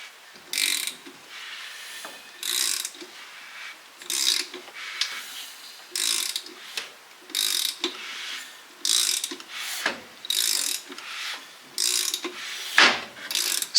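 A Subaru EJ207 built engine, neglected and corroded, is turned over by hand, giving repeated dry, scraping ratchet-like bursts at a steady rhythm, close and fairly loud with no talking.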